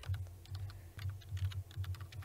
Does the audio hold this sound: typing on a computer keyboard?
yes